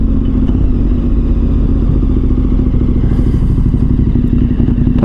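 A KTM 1290 Super Adventure R on knobby TKC tires, its chain in need of adjustment, thumps and rumbles loudly throughout the ride with constant engine throb and some clattering.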